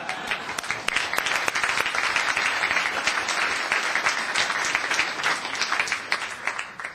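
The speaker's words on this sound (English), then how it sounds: "Round of applause." Applause fills a town council meeting, a steady, dense round of clapping from the room that holds at an even level for several seconds before tapering slightly at the end.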